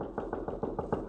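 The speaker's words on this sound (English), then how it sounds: "I hear a knock on my door" Knocks on a door in an old radio drama, a quick series of about seven muffled, evenly spaced raps, close and fairly loud, with no talk over them.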